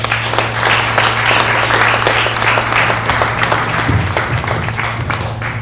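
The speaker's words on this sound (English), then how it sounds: "put your hands together, because here he comes" Loud, dense audience applause fills the room as comedian John Jude is brought up at a comedy fundraiser, steady clapping and crowd noise over a low hum, with no talk.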